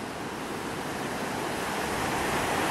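Ocean waves breaking on a beach at sunrise in Cabo San Lucas, a steady, full surf roar that stays loud and unbroken throughout, with no voices.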